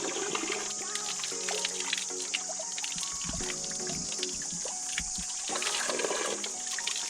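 Natural spring water flows steadily from a mountain source on a hike near Shangarh in the Sainj and Tirthan valleys, a close, continuous splashing and pouring with a few brief louder gushes.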